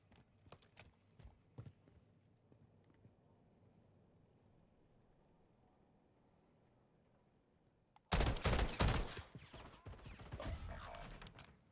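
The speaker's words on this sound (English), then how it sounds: "And this is a burst fire." A burst-fire weapon in a video game sits behind a long stretch of quiet clicks and small taps. Then it erupts into a loud, close volley of rapid shots that continues to the end.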